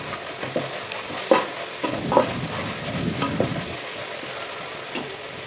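Ginger garlic paste and onions sautéing in a pan, a continuous close hiss of frying with a few light spoon knocks and stirring strokes.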